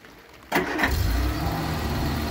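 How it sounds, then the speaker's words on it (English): A 1975 Vauxhall Viva, an abandoned barn-find car, cranks briefly and fires up, then settles into a steady, close engine idle. "Once when I start the car."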